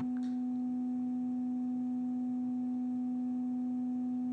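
A 250 Hz test tone plays through a small built-in MacBook speaker: one steady, continuous pure hum with a faint distorted overtone, holding unchanged throughout with no talking.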